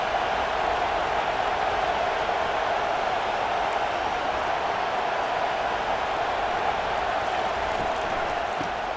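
A large stadium crowd at a college football game roars continuously in a broad, steady wash of cheering, loud and unbroken, with no distinct voices standing out.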